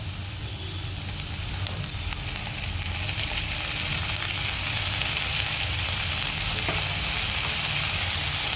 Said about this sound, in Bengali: ভালো করে মশলাটা নেড়ে ফেলে মিশিয়ে নেবে